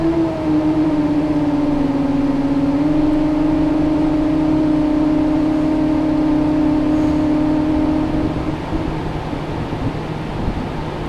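A 7-inch FPV drone's motors spool up at high throttle for takeoff, a loud, steady, high-pitched whine that holds for several seconds, then cuts out, leaving a rough background hiss.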